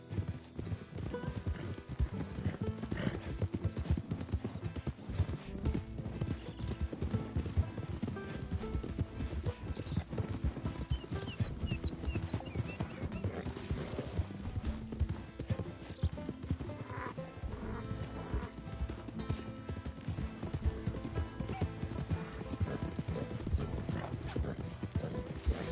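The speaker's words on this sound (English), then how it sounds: "It's just a donkey" Hooves clop in a steady, rapid rhythm from a donkey in Red Dead Redemption 2, close and continuous throughout, with occasional whinny-like calls and faint mechanical rattling mixed in.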